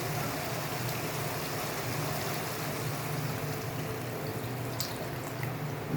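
Water poured into a pan of well-fried masala for Alu Patol Chingri, a Bengali potato, pointed gourd and prawn dish, giving a steady close splashing pour with no talk.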